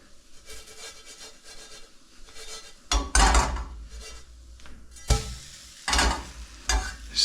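Hash browns being flipped and scraped with a spatula in an oiled frying pan, a run of scraping and rubbing strokes with bursts of sizzle, close and fairly loud, with no talk.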